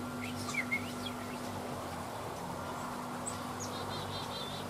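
Birds chirp outdoors in a few short, thin calls and quick repeated tweets, faint over a steady background hum and insect-like drone.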